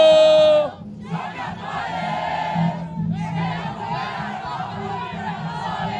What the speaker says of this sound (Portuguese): Se liga como é que tá a torcida do Atlético